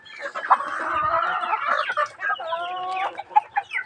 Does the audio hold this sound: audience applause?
no